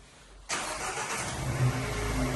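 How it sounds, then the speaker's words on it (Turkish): A 2023 Dacia Duster engine starting by remote start-stop command: silence, then an abrupt start that settles into a steady close idle hum with a slight swell partway through. "Bir süre bekledikten sonra marş emrini yerine getirdi."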